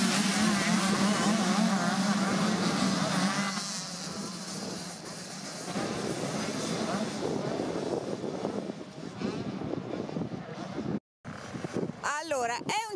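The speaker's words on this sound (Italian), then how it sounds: "Ecco che si accendono i loro motori." Motocross bikes of 85cc and 125cc start up and rev together before a training heat at the Grottazzolina track, a loud, continuous buzzing engine roar with a commentator talking over it.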